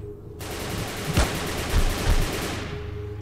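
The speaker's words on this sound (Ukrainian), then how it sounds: "Чому вони в мене стріляють?" Rapid bursts of gunfire in the video game Heat Guardian crackle continuously, with a few heavier shots punching through the dense stream of fire.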